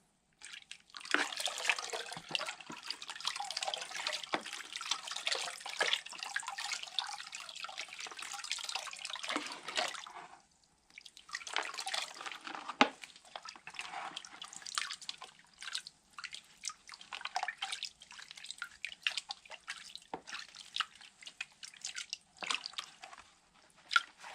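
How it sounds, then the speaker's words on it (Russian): Ladled water splashes over a sluice tray, washing peat and gravel out, a steady close pouring and dripping wash that pauses briefly near the middle before resuming in choppier bursts. "Вот даже просто ковшиком поливаю, торф тут же выплывает из лотка."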